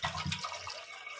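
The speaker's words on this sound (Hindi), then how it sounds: "इसमें पानी डालेंगे" Water is poured into a pressure cooker on the stove for urad dal: a short, close splash of liquid lasting under a second, then fading.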